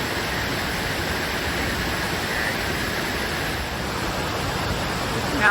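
Hurricane Helene floodwater rushing down Assembly Drive in Montreat, a road turned into a creek: a loud, steady, unbroken roar of rushing water fills the whole stretch.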